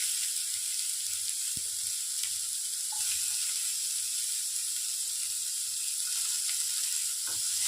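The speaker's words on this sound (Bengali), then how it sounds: "দিয়ে আর একটু ফ্রাই করে নিচ্ছি।" Chopped capsicum and mixed vegetables frying in oil in a pan, a steady soft sizzle with occasional light stirring clicks, close and alone without talk.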